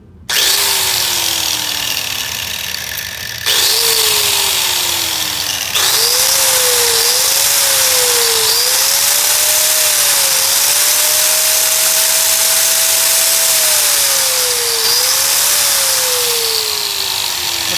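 An angle grinder runs under test, its motor whining loud and close in repeated bursts that spin up and slow down, then one long sustained run with small pitch dips.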